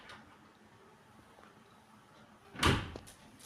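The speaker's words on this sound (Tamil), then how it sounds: "அண்ணாவே கதவு திறக்குவாங்க" A door opening in a home while a dog waits, heard as one brief, fairly close clatter and rattle standing out from quiet room tone.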